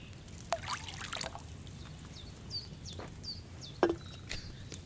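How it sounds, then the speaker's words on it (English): Wine poured from a pitcher into a cauldron while brewing in Kingdom Come: Deliverance makes soft trickling and splashing, with a few sharp knocks and faint high chirps in the background. "So, what did you pour in there? Wine, of course."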